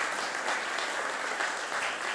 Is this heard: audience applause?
yes